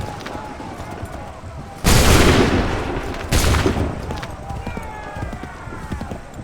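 Two loud, booming musket volleys burst out in the Assassin's Creed 3 game, each a dense crack with a decaying rumble, amid ambient battlefield noise and voices nearby.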